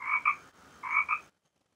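Two short croaking calls of a frog played as a sound effect by a smart assistant, clear and alone, ending in silence.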